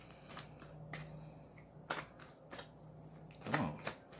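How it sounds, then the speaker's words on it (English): Tarot cards are shuffled by hand in quiet bursts of soft, papery riffles and sharp little slaps, separated by brief pauses. The sounds are close but faint. "Shuffle that back in."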